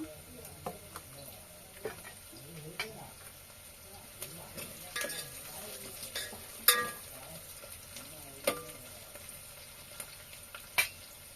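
Onions fry in a pan for a farm chicken curry, a faint soft sizzle under scattered stirring scrapes and light clinks of a utensil against the pan, close by.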